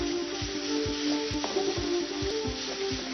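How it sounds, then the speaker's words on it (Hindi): Spices and red chilli powder sizzle steadily in hot oil, a close, continuous frying hiss with a regular rhythmic scrape of a spoon stirring the pan. "ये लीजिए मसाले अब यहाँ पर भुन चुके हैं"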